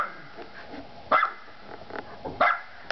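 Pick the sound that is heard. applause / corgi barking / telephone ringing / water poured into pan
corgi barking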